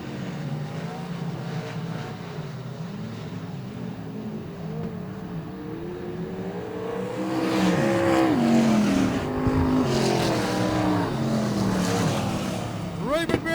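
Modified race cars lap Greenstone Park Speedway, their engines a continuous loud roar that swells and shifts pitch as cars pass nearby, with commentary running over the track noise.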